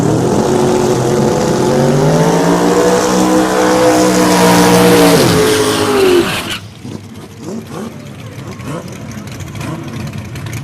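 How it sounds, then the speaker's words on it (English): A red Camaro race car roars past at a Kentucky racing event, its loud engine note sweeping and falling before dropping away, with commentary talking over it. "There's a red Camaro."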